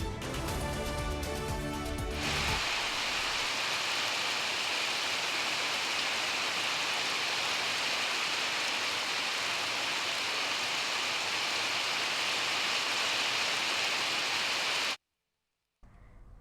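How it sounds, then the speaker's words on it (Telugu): Heavy monsoon downpour in Rajanna Sircilla district, Telangana, pours as a loud, steady hiss that holds for about thirteen seconds after a brief tonal opening, then cuts out abruptly. "రాజన్న సిరిసిల్ల జిల్లాలో భారీ వర్షం బీభత్సం సృష్టించింది."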